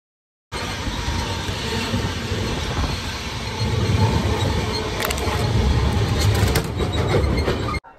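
Jan Shatabdi Express train, the Howrah to Bhubaneswar service, running non-stop between Bhadrak and Jajpur Keonjhar Road: loud continuous rumble of wheels on rails from inside the train, building after a sudden start, with faint squeals and rattles.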